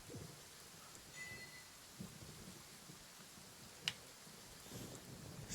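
Game thunderstorm in Genshin Impact: steady rain hiss throughout with low rumbling swells and one sharp thunder crack near the middle, heard fairly close with no talk over it.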